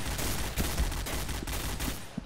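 Rapid bursts of pistol gunfire in a multiplayer shooter video game, dense and loud, with overlapping shots cracking in quick succession and no talk over them.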